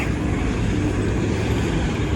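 Traffic on a city street is heard while walking toward a bus: a loud, steady rumble of passing cars and heavier vehicles with constant road noise, nearby and unbroken, with no talking.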